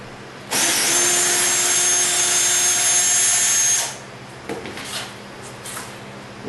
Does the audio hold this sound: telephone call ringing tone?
no